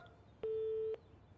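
A telephone busy signal sounds from a cartoon household's unplugged hall phone, a single steady electronic tone lasting about half a second, clear and isolated against faint background hiss.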